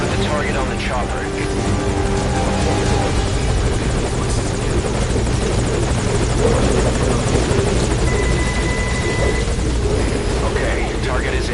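A helicopter hovers in the video game Metal Gear Solid V, its loud, close rotor chop and engine whine steady throughout, with voice chatter mixed in.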